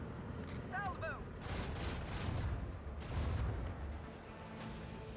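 Macro cannon salvo in a Warhammer Chaos space battle game: a rolling series of heavy booming blasts with low rumbling thuds, following a brief voice, continuing steadily over about four seconds.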